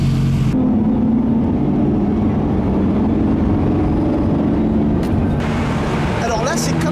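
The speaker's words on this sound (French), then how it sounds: "les vocalises de ces Lamborghini, ça rend l'expérience encore plus intéressante" Lamborghini engines driving through a small Italian village during the Concorso d'Eleganza 2019, heard as a steady, loud engine drone with road and wind rumble throughout, brief higher whines near the end.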